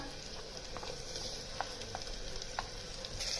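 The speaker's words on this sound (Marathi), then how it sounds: "आता रंग बदलेपर्यंत टोमॅटो जरा स्मॅश होईपर्यंत आपण परतून घेऊया" Tomato and onion sauté in a pan for pav bhaji, giving a soft, steady sizzle with a few faint stirring clicks and no talking.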